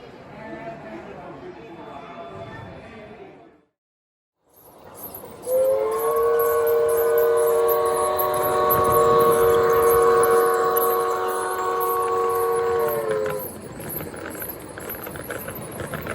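Model trains run on an N-scale layout, a rumbling run with a long sustained whistle blast in the middle and rhythmic clicking wheels, briefly cut to silence near the start, with voices chattering underneath.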